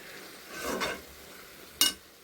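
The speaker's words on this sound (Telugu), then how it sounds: "ఇప్పుడు మళ్ళీ ఒక 2 మినిట్స్ అయింది కదా, ఫ్రై అయింది కదా ఉల్లిగడ్డ." Onions frying and being stirred in a pan: a soft sizzling scrape from the stirring, then a short sharp scrape a moment later, with no voices.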